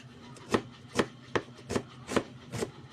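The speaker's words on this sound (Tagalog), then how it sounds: "maghiwa na ta sa ato ang ahos para magisa na ta" A knife chopping garlic on a board, six distinct, evenly spaced cuts ringing out close and clear over a quiet kitchen background.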